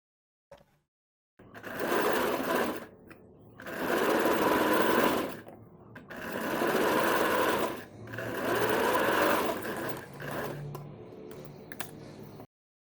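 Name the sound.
sewing machine stitching a strip around a kurti neckline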